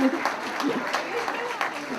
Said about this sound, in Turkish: Bir alkış hak ediyor kesinlikle.